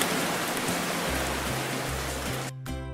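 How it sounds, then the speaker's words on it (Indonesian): Steady rain falls with a dense, even hiss of drops, under a low droning hum that shifts pitch and ends with a brief cutoff. "Terus, turun hujan asam."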